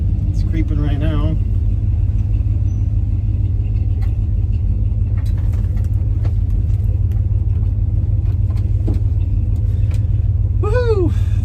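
An old pickup truck engine creeps along slowly with a steady low rumble and drone that fills the cabin. Someone talks over it now and then.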